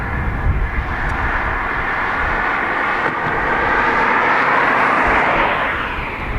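A departing airliner rolls and lifts off from runway 28 right at Dublin Airport, bound for Palma de Mallorca, a loud, steady broadband jet roar that holds throughout and swells slightly toward the end.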